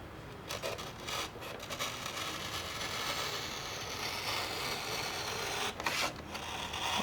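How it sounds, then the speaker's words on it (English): A craft blade draws a single bevel cut through foam board, making a steady close rasping, scraping rub that runs continuously for several seconds with a few brief louder scratches. "And I'm going to cut a single bevel."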